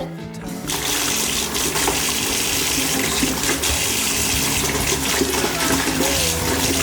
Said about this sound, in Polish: więc musimy dodać trochę zimniejszej wody